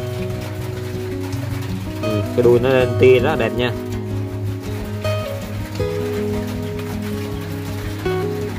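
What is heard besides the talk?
rain falling outside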